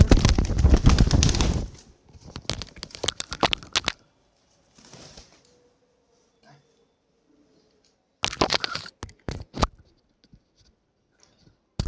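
Lakkha fantail pigeons in a pet loft: close bursts of wing flapping and rustling, strongest at the start and again near the end, separated by quieter stretches with only faint scattered sounds.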